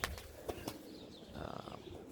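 Pigeons, blues with a few reds and saddles, flap their wings in short bursts while flying around a loft area at 8:30 at night, faint and somewhat distant over quiet ambience.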